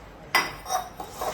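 Dishes and utensils being scrubbed at home, a few short scraping clinks and rubs of metal pots in quick succession, close and fairly clear with no talking.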